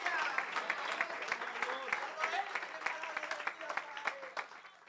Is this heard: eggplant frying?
no